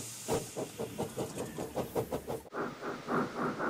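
Rhythmic chuffing bursts of steam hiss from a locomotive, a steady pulsing exhaust that briefly cuts out and then resumes, heard fairly close.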